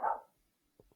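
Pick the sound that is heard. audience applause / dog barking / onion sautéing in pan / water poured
dog barking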